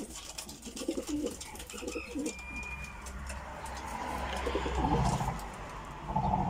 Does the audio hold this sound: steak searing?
no